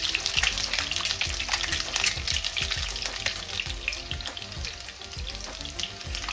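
Boiled eggs and potato pieces fry in oil for egg curry, a steady close sizzle with intermittent clinks and scrapes of stirring running throughout, no voices.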